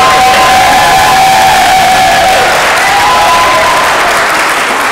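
Loud, sustained applause and cheering from a debate audience, a dense wash of clapping with a few whoops, steady throughout without speech on top.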